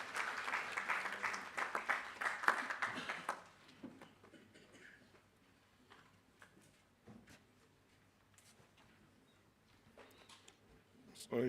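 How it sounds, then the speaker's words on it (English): At a parliamentary capacity-building event, an audience gives a burst of applause that lasts about three seconds and then dies away into a quiet room with faint scattered sounds, before a voice begins speaking at the very end. "A round of applause for him, sir."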